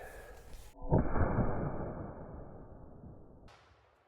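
An 1887 Winchester lever-action chambered for a large black-powder cartridge fires a 900-grain bullet once, a single loud close boom that rings and decays over a few seconds.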